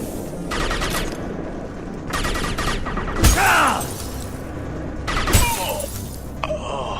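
Mass Effect 2 weapon fire: sharp bursts of shots with shattering impacts, several separate volleys spaced over a few seconds, loud and close with no talk.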